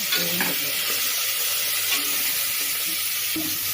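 Green chillies and onions fry in hot oil for a hotel-style veg kurma, giving a steady, close sizzle with a few stirring scrapes near the start and end, with no speech over it.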